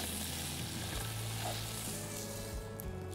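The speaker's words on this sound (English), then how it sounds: "I'm just going to quickly pan sear the trout in here" Trout being quickly pan-seared, a dense, faint, steady sizzle that holds throughout with a slight hum beneath and no voices.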